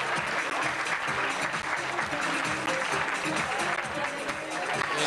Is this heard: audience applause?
yes